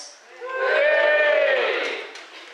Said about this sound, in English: give us a cheer if you're a parent